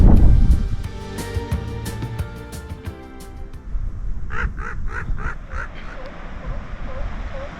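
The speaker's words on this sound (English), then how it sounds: "Sounds like a seal down there." A seal calling from below a coastal ridgeline in Channel Islands National Park: a run of rapid, harsh barking calls, then a spaced series of short honking barks, moderately loud across open air.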